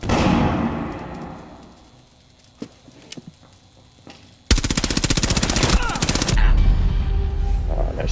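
Gunfire erupts in the tactical shooter Rainbow Six Siege on the Coastline map. A few scattered shots and thuds come first, then a loud, rapid automatic burst runs for about two seconds and is followed by continued clatter.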